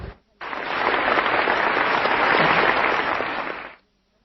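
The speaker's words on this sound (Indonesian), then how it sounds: "Berikan tepuk tangan yang meriah." A church congregation bursts into loud applause, a dense sustained clatter of many hands that starts abruptly, holds steady for over three seconds and then cuts off.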